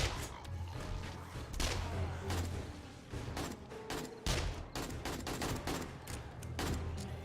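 Pipe bombs go off in a video game as a rapid, loud series of bursts and bangs, densely packed like a fusillade with booming low rumble throughout.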